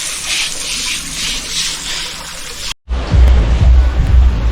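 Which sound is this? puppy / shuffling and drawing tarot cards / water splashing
water splashing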